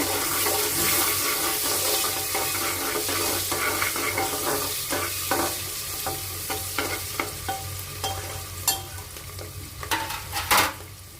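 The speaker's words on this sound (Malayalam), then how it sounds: "ചെറുതായി ഉള്ളി ഇട്ടിട്ടുണ്ട് ഇത് ഒന്ന് ഇളക്കി കൊടുക്കാം" Small onions frying in a pan for Karnataka-style vegetable bath, a strong hissing sizzle that gradually settles while a spoon stirs and scrapes in irregular clacks, louder near the end.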